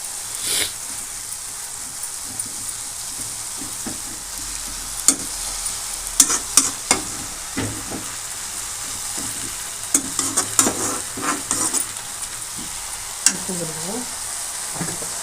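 Green chillies fry with manathakkali (black nightshade) greens in a pan under a constant soft sizzle, broken by irregular spoon clacks and scrapes as the mix is stirred, and a brief voice near the end.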